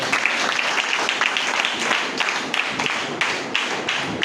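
A church congregation at a Good Friday sermon clapping loudly together, a dense, sustained burst of many hands with slightly rhythmic pulses, close and full throughout.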